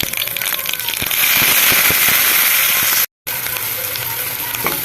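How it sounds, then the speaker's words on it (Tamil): Garlic and onion fry in a hot pan for a Tamil banana-stem kootu, producing a loud, steady, close sizzle with dense crackling that cuts out for an instant before resuming. "பூண்டு ஒரு நாலு பல் வெங்காயம் போட்டலாம்"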